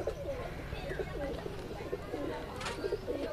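Green-eyed Madrasi pigeons at Surjapur give soft, repeated throaty coos close by, with people talking underneath.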